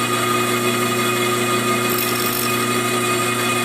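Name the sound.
saw cutting through a tombstone piece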